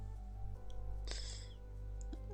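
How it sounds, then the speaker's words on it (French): A small cat meows once in a video game, a short bright mewing cry standing out over a steady game background hum and music. "Un petit chat."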